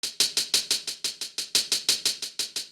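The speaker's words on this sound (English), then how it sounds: "This is the layer with some more hiss to it." A steady run of crisp, hissy hi-hat hits, about sixteen evenly spaced strikes, bright and airy with little low end, playing alone.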